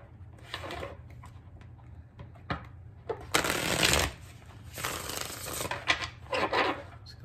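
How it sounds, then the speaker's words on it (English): Tarot cards riffle and shuffle in repeated bursts, close and crisp, with brief pauses between each shuffle. "Get three more shuffles for Aries."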